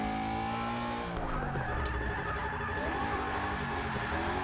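Drifting car in Forza Motorsport 6, driven with an NRG Innovations steering wheel, with a continuous engine drone and sustained tire squeal sweeping in pitch, loud and steady throughout.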